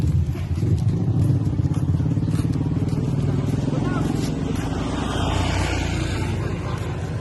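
A motorcycle engine runs steadily and close by, its low drone continuous throughout, with voices talking over it.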